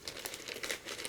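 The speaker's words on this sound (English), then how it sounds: "you can just tear it here, or you can tape that newspaper down to the animal" Quiet crinkling and tearing of newspaper for a puppet, a rapid string of soft crackles and rustles heard close and alone.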